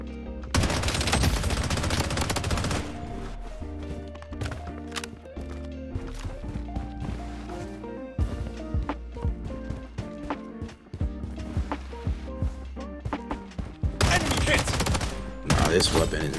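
Bursts of automatic gunfire from a mobile battle-royale shooter, Project Blood Strike, crackle loudly at the start and again near the end, with dense music and game effects filling the middle.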